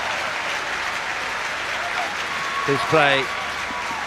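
A stadium crowd at a rugby sevens match claps and cheers in a broad, sustained wash, with a commentator talking over it near the end.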